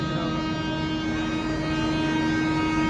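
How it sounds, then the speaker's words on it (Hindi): A passing train's horn sounds as one long, steady, loud blast that continues through the whole stretch with no break, heard from aboard a Delhi to Dhanbad train. "ये तो दूसरी ट्रेन का है, मुझे लगा हमारी ट्रेन का हॉर्न है, बट ये दूसरी ट्रेन का है।"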